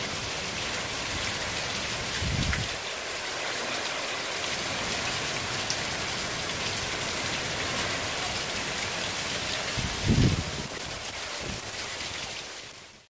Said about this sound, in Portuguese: a chuva também está bem forte e a gente sente bem os ventos também